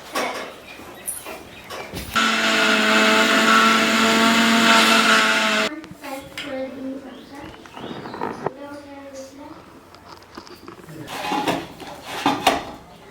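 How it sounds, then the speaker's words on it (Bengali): An electric grinder whirs loudly and steadily for about three and a half seconds as it grinds fried sesame seeds for pitha. Clattering handling sounds and talking follow. "ভাজা তিলগুলো আমি গুঁড়ো করে নেব এখন।"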